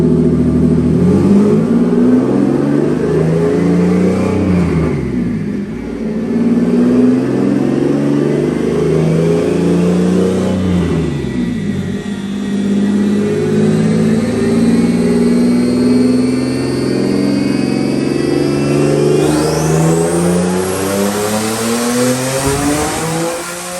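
Tuned Nissan 370Z with boost revving on a dyno, loud and close, engine note climbing through repeated sweeping pulls with brief dips between them and a whistling turbo rise near the end.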